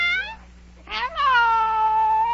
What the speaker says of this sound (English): Oh, it's the Cheshire Cat.